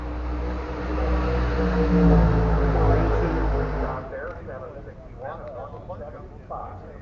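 Tommy Idle's Barnstormer vintage dragster at a hot rod reunion drag event, a loud low rumbling engine that drops off sharply after about four seconds, leaving quieter background noise and voices.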